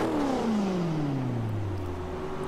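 Supercharged V8 engine in a Forza 5 drift car whining loudly and steadily, its pitch sliding down as the revs fall, with a higher harmonic tracking along above it and no voices.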